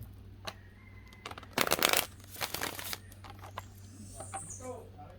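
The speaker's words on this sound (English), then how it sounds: "I'm going to give this 3 shuffles, and we'll see what we've got." A deck of tarot cards being shuffled by hand, several brisk riffling bursts with short pauses between them, close and fairly quiet.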